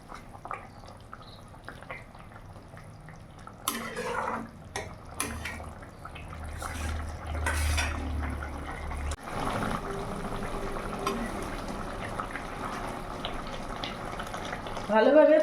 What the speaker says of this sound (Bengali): এবার মাছ দিয়ে আমি কিছুক্ষণ ফুটিয়ে নেব।